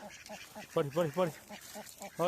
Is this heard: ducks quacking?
yes